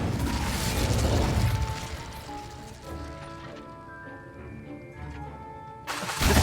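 A fiery Incendio spell bursts loudly with a broad whoosh in Hogwarts Legacy, fading into soft tonal game ambience before a second burst flares up at the end.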